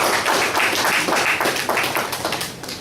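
Audience applause at a Toastmasters club meeting, a dense burst of many hands clapping close by, loud and steady before tapering off slightly at the end.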